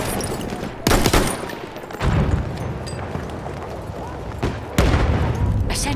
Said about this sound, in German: Ich werfe Granate!